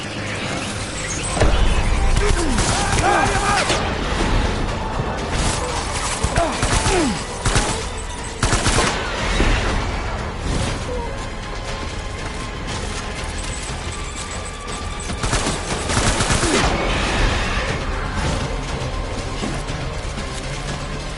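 Dense, continuous gunfire and mechanical clatter from a battle in the video game Death Stranding, loud and sustained, with a few heavier bursts standing out.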